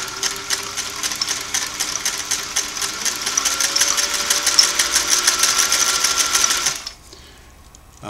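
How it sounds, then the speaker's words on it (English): A Singer 503A twin-needle sewing machine running a long straight stitch, a steady fast mechanical whirring hum with rapid needle clatter, close and continuous, stopping abruptly near the end. "I'm going to do a number 6 stitch, the long one,"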